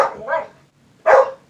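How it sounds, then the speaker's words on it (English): A dog in a house gives two loud, close barks, the first a drawn-out double yap and the second a sharp single woof about a second later. "My dog's driving me crazy."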